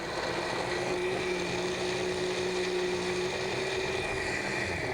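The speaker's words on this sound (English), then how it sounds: "Covering the blender. Now, what are we just blending it on regular mix?" Blender running steadily while blending ingredients in a home kitchen cooking show, a constant moderately faint motor whir with a fixed pitch and no talking.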